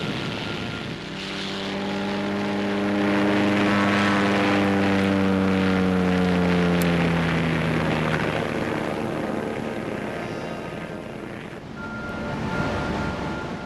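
A British propeller-driven reconnaissance aircraft drones overhead, growing louder then fading away, its engine pitch sliding downward as it passes.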